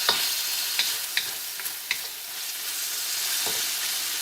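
Small chicken pieces stir-frying in a hot pan, a steady bright sizzle broken by several sharp scrapes and taps of a utensil, close and with no talk.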